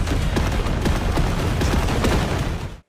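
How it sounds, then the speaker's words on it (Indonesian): Animated artillery bombardment pounding an imperial palace at night, heard as a dense, continuous barrage of booming blasts and crackling gunfire-like bursts, loud throughout before cutting off abruptly at the end. "Serangan artileri besar-besaran segera menghujani istana kekaisaran. Ledakan demi ledakan mengguncang langit malam."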